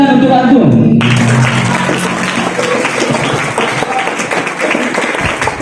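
Students from an Islamic primary and junior high school applauding at a traffic-rules and delinquency-prevention outreach event, a loud broad burst of clapping that follows a tonal sound and continues steadily with voices mixed in.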